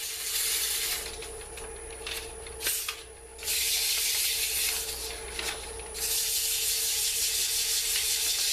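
Hand sanding the bottom of a wooden bowl with straight-line strokes, a steady close abrasive rasping that pauses briefly and resumes, with no talking.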